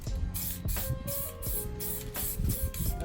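An aerosol can sprays a black coat onto a Subaru spoiler in steady hissing bursts with short pauses between passes, close and alone without talk.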